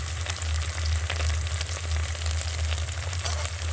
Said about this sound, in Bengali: টমেটোগুলো হালকা ভাজা ভাজা হয়ে গেছে